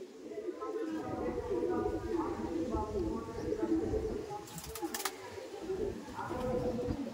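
Madrasi pigeons kept in a home loft coo in low, steady murmurs beneath a constant crowded hum, with brief sharp clicks near the middle and talk that may overlap.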